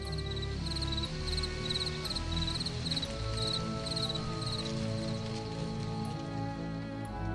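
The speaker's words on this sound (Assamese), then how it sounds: "তাতে জিলেবোৰৰ শব্দই যে পৰিৱেশটো নিজান কৰি তুলিছিল" Crickets chirp at night in steady, repeating pulsed bursts, joined by a soft rain-like hiss over a low, sustained musical drone.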